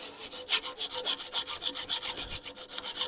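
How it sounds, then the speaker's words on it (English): A hand file works metal in steady back-and-forth strokes, about two per second: a close, raspy scraping with a regular rhythm and no voices. "You kind of know what I'm doing, filing it out"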